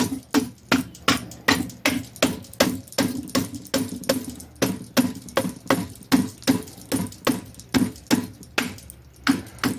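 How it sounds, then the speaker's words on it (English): Rubber mallet tapping a part onto a Traxxas TRX4 RC chassis during assembly: a long run of steady, evenly spaced knocks, close and loud, about two to three per second with no talking. "use a rubber mallet, which is actually what I'm going to get right now"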